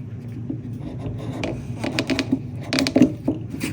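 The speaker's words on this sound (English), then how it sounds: "I'm just going to trim the bottom with my deburring tool carefully and get that edge off" A deburring tool scrapes along the bottom edge of a cured resin casting from a bird jar mold, giving a close, quiet run of small rasping scratches and ticks that grows busier toward the end.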